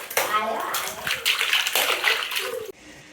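Water sloshes and splashes as a small child is bathed, bursts of splashing close by mixed with an adult's voice speaking over it, ending in a quieter moment.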